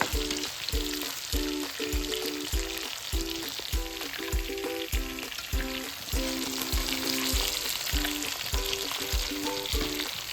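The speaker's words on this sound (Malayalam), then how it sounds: "നമുക്ക് ചിക്കൻ ഫ്രൈ ആയി തുടങ്ങി." Chicken pieces frying in hot oil for a chicken biryani, a steady loud sizzle running the whole time alongside a regular, rhythmic tonal pulse in the background.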